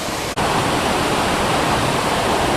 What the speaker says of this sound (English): The water is draining out of here.